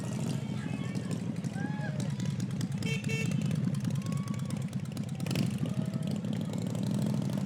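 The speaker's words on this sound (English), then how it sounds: "Gotta have some motorcycles." Motorcycles rumble past at low speed in a 4th of July parade in South Norfolk, a steady idling engine drone close by, with announcer talk and crowd voices over it.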